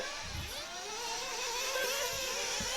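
A 1/8-scale off-road RC racing car engine whines and revs at a French Elite championship final, its high buzzing pitch sweeping up and down over the continuous drone of other engines on the track.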